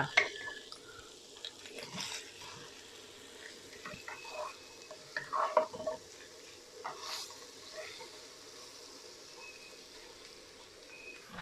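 Shrimp and fresh shiitake mushrooms stir-fried in oil with Thai garlic in a pan, a soft hiss with scattered clinks and scrapes of the utensil, fairly quiet and close.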